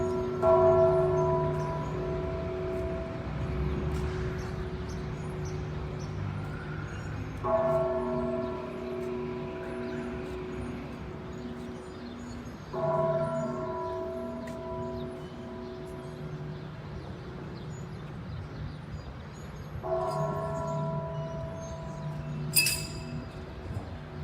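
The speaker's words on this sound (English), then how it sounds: "I'm going to show you the man that rings the bells." Church bells in Mexico peal in repeated rounds of layered, ringing tones, each round swelling then decaying, with a continuous low hum underneath and a brief high clink near the end.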